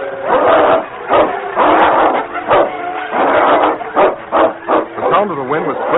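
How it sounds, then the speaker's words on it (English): In a live radio theatre drama, a dog and wolves snarl and growl in repeated rough bursts with short gaps, close and loud, with a thin, narrow tone. "The sound of the wind was split by snarls and growls of fury."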